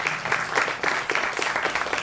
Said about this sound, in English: Let's have another big round of applause for Frankie and John.